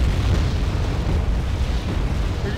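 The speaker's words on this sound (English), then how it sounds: "They're just throwing like a million frag grenades." Frag grenades exploding in a combat video game, a dense rumbling roar of overlapping blasts with heavy low boom, loud and continuous without clear gaps.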